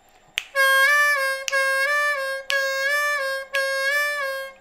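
A C harmonica plays a blues triplet lick on the four draw with a half-step bend, four sustained reedy phrases in a steady rhythm, close and clear with no talking.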